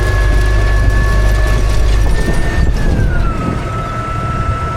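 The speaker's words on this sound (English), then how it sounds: "just turn the tractor off here to kill the noise" A tractor engine runs during seeding of a full field reseed, giving a heavy, steady low rumble nearby with a thin whine above it that slides slightly lower partway through.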